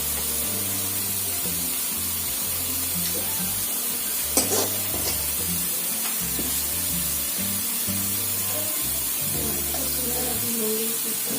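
Onions fry steadily in a pan for dal tadka, giving a continuous dense sizzle with occasional scraping stirs, close and without talk.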